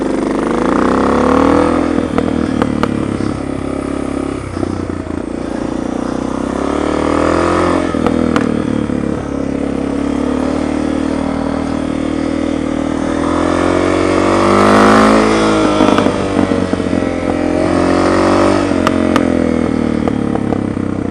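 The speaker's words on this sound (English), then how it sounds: "Gotta love all the noise that exhaust makes" A car's exhaust drones loudly and up close as the engine revs and shifts, pitch rising and falling steadily throughout, with no talking.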